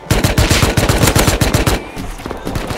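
Rapid automatic gunfire in the survival game Rust, a loud close burst of evenly spaced shots that runs for most of the moment before trailing into quieter scattered reports.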